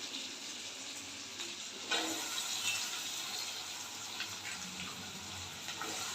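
Soaked cashews and almonds being rubbed and rinsed under running water from a tap, a steady wash of splashing with a brief louder gush near the start, no voices.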